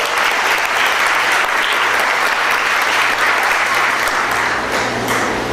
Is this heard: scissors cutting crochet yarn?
no